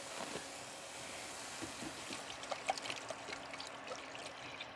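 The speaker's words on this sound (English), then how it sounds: "So I'm going to go ahead and pour some water in here." Water pours steadily into a cooking pot at a camp, making a faint, continuous trickling splash with a few brighter drips near the end, and no talking.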